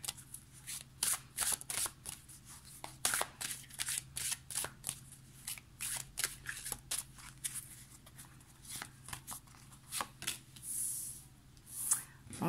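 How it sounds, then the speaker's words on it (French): Cards are pulled one after another from a tarot deck, close-up dry flicks, slides and papery snaps in an uneven run of many short strokes with a faint steady hum underneath. "je vais vous prendre 9 cartes"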